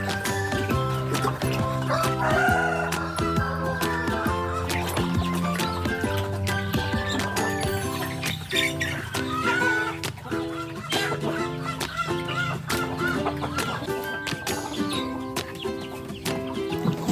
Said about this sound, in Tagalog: Katatapos ko nga lang pala magpatoka dyan ng mga manok, kaya yan, nandun sila sa patokaan.